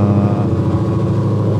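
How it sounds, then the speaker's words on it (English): A Ford Mustang muscle car engine turning over from a cold start, a loud, steady, deep rumble with rapid pulsing throb, close up and with no voices. "I was withholding the cold start from that video, so you can hear it in this one"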